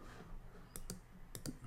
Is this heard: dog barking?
no